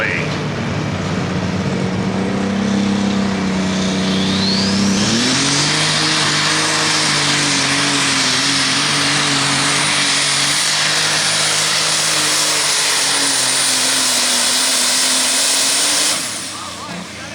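A light super stock pulling tractor roars through a pass at a Hillsboro, Wisconsin tractor pull, its engine rising in pitch and holding a loud, sustained drone before cutting off near the end, with an announcer talking over it.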